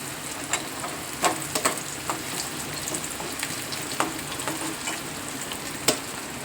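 Malvani-style prawn masala sizzles and crackles in a pan while being stirred, with sharp clicks and scrapes of the spoon over the constant frying hiss.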